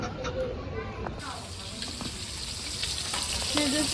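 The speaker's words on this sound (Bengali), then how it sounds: "ইলিশ মাছ ভাজতেছি" Hilsa fish frying in hot oil in a home kitchen, a steady close sizzle with occasional stirring scrapes, while a voice talks intermittently over it.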